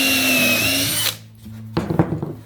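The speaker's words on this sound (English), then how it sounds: "we're going to drill through to the other side" Power drill driving a Forstner bit through scrap MDF while building a folding plywood sawbuck: a loud, steady high whine for about a second, then it cuts off, followed by a few sharp knocks and clatters.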